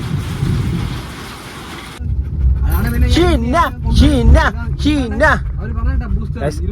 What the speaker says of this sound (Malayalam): പുറത്ത് മഴയും.